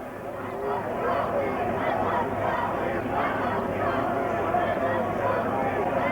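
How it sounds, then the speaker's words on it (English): A small protest crowd in Washington, DC, facing police at a World Bank and IMF demonstration, shouts and chants continuously at close range, a dense mass of raised voices without pause. "This is the small crowd itself demanding that they be let go."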